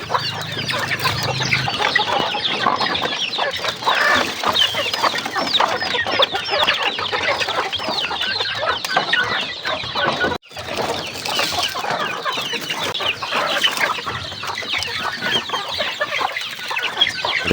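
Many chickens cluck and chatter together in a busy, continuous flock, close and fairly loud, with no talking.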